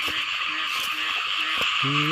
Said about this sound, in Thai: เออกบลายครับ